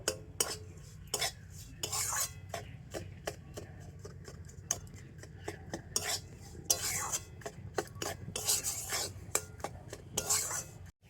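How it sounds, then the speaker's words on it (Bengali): Semolina, flour and sugar mixture being stirred and fried in a pan, with rapid repeated scraping strokes of a spoon against the metal, close and fairly quiet, over a soft low hiss. "তো সব কিছু কিন্তু আর একটু ভালো করে এরকম ভেজে নেব।"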